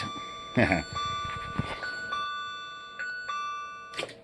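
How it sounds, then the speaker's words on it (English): A steady electronic alarm tone from a model train control system, triggered by loss of track power, sounds continuously with overlapping beeps, while a person talks over it nearby. "that's an alarm because of no track power"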